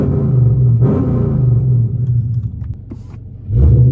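Revving 2015 Chrysler 300 Hemi V8 fitted with BBK long tube headers, heard from inside the cabin: a deep rumbling idle swelling into a couple of throttle blips, muffled but strong, without speech.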